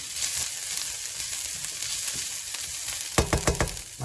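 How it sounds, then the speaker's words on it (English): Garlic fries in a pan over gentle heat with a steady, soft sizzle, then three or four sharp scrapes and knocks of a utensil stirring near the end, with no talk. "Give it a slight heat for like 30 seconds until the garlic just about takes on some flavor"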